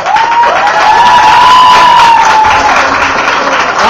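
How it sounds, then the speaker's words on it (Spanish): A graduation audience applauds and cheers loudly and steadily throughout, with a sustained tone or voice running over the crowd noise. "Levántense y den un aplauso a esta persona"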